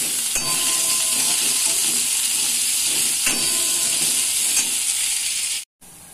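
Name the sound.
frying potatoes and green chillies in a pan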